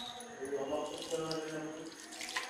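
Water is poured onto crushed jaggery in a pan on a stove to make syrup. The pour is a faint, soft trickle and splash, with a voice speaking quietly nearby.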